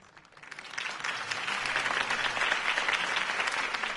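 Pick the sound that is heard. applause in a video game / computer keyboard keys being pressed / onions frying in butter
applause in a video game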